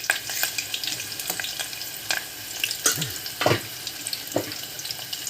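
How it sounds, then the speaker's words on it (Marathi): Garlic and curry leaves hit hot oil in a pan, giving a continuous crackling sizzle with scattered sharp pops and spatters, plus a few stirring clinks, close and alone without talk. "गरम झालेला आहे आणि आता आपण लसूण टाकूया आणि त्याच्यानंतर टाकू आपण कढीपत्ता"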